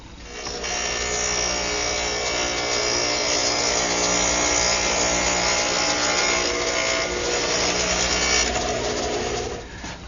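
Wooden side panels fed through a saw set up for a dado cut in a workshop. A loud, steady machine whine and roar holds for about ten seconds, with no talking.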